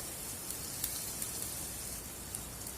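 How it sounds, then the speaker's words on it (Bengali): Green chillies and grated garlic fry in a pan with a steady, even sizzle and faint scattered pops, close and continuous. "কাঁচা লঙ্কা আর রসুন কুচিটা একটু ভেজে নেব"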